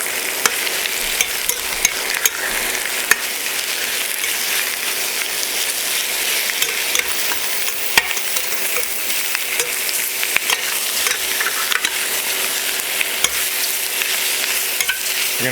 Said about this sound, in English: You can hear how quick that heats up. So let's just stir the shrimp up.